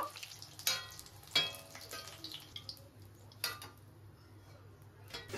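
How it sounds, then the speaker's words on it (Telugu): Brinjals fry in oil in a pan, a soft continuous sizzle punctuated by several sharp clinks and scrapes of a utensil against the vessel, fairly quiet and close. "ఒక సైడ్ ఏమో ఇక్కడ వంకాయలు ఫ్రై అవుతున్నాయి ఆయిల్లో, కొంచెం కొంచెంగా వేసుకొని ఫ్రై చేస్తున్నాను."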